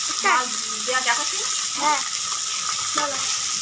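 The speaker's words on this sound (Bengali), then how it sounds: "মাছটা আমি দুবারে ভাজবো একবারে ভাজতে গেলে হয়তো ভেঙে যাবে" Small fish fry in hot oil in a pan, giving a steady, bright sizzle close by, while someone talks over it at intervals.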